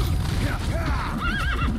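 A horse whinnies in a short rising-and-falling neigh in Metal Gear Solid V: The Phantom Pain, with faint hoof clops and low background noise underneath.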